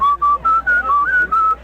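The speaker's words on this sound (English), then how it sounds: "most people who aren't whistlers would whistle" A person whistles loudly and clearly up close in a series of short, high, sustained notes, each separated by a brief pause, and no one speaks over it.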